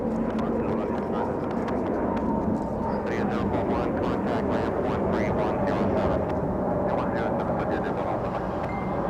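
Volaris airliner departing Los Angeles airport, a steady broad jet roar with a faint rising whine, heard from a distance, with constant rumble throughout.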